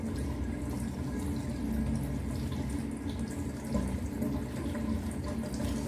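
A tap runs water steadily as hands are rinsed at a sink, a continuous close splashing flow with small drips and shifts in the stream, fairly loud and with no voices.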